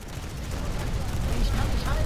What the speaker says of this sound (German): Wow, da kam ein Schuss.